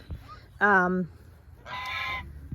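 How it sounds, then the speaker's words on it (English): A Chinese goose, a loud upright breed kept with other farm geese, gives two honking calls: a short harsh honk and then a longer, steadier one about a second later, both close and clear against a quiet yard. "Now this goose back here is a Chinese goose. Chinese goose are loud."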